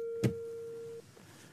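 Single telephone tone after a caller hangs up, a steady pure beep lasting about a second, preceded by a short click and followed by quiet.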